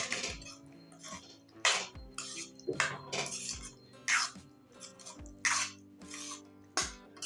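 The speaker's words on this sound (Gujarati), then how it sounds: "હવે આપણે વઘારને એકવાર ચમચાથી સરસ રીતના હલાવી લઈશું" A ladle knocks and scrapes against a pot as urad dal is stirred after its tempering is added, giving a series of irregular metallic clinks and scrapes at close range with no talk.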